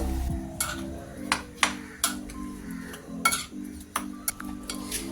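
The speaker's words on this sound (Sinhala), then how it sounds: "සීනි මේස හැඳි 1යි 3යි 4යි 5 එකක් දාලා හොඳට අපි කලවම් කරගන්න" A spoon stirs sugar into a banana pudding mixture in a bowl, giving repeated light clinks and scrapes at an uneven rhythm, quiet and close.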